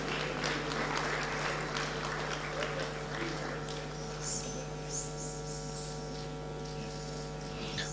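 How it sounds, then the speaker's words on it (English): Audience applause fills an awards ceremony hall for a CEO of the Year honour at a Ghana CEOs summit, a steady wash of clapping that slowly thins over a constant electrical mains hum. "A round of applause."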